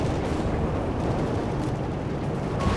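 Carpet bombing explosions roll across a Company of Heroes 3 battlefield as a dense, rumbling wall of overlapping blasts and crackling impacts, loud and sustained for the few seconds heard.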